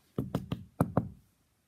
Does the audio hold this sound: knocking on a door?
yes